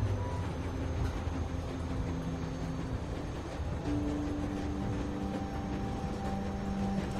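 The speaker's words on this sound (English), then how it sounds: "We need to stop this train." A train rumbles along in The Walking Dead video game, a steady low mechanical drone with faint rail clatter and tonal hums, continuous and fairly quiet with no talking over it.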